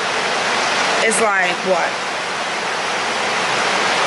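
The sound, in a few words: heavy rain pouring outside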